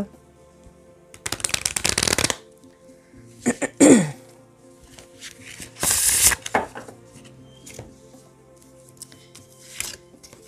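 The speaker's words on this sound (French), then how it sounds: "j'ai l'oracle Aradia et on va tirer 3 cartes" Aradia oracle cards shuffled in several separate riffling bursts, close and fairly loud, with a throat clearing between them and quiet pauses in between.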